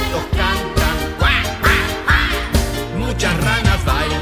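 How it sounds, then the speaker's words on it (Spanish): Ducks quacking within a children's rain song from Uruguay, a run of rhythmic quacks sounding over the full musical backing, layered with instruments and voices. "varios patos cantan"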